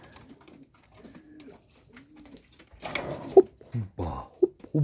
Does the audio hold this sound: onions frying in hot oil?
no